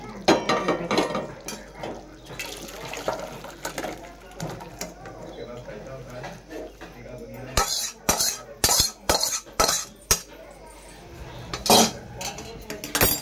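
A pot of mutton curry is lifted off a gas stove with clanking metal and sharp scraping clatters of pot and utensils, irregular and close, growing busier toward the end, over faint kitchen background.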